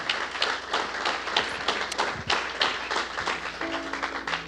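A church congregation claps loudly in praise during a Sunday morning service, a dense, steady patter of many hands filling the room, with faint voices mixed in underneath.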